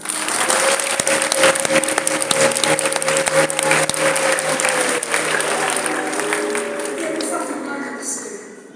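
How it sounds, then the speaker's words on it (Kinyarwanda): A church congregation gives a loud, sustained round of applause during an evangelist's sermon, with dense clapping that fades out near the end. Some voices rise within the crowd noise. "Twagukomera amashyi"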